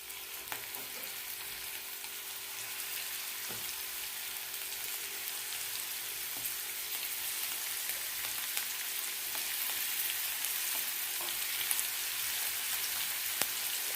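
Spice-coated sardines fry in hot oil with a steady, broad sizzle that grows slightly louder over time, with faint pops and crackles scattered throughout and no talking.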